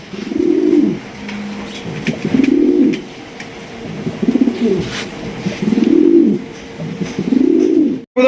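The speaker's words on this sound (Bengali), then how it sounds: "দেখেন এখন পর্যন্ত কিন্তু ডাকতেছে তাহলে বোঝেন যে কত পরিমাণ ডাকে" Pigeons coo close by in a row of five or six deep, rolling calls at a steady rhythm about once every 1.5 seconds, with light background noise and no talk.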